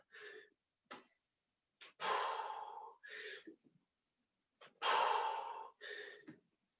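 Heavy, audible breaths during a HIIT press-up workout, a series of sharp inhales and longer forceful exhales in an uneven rhythm, close and alone with no talking.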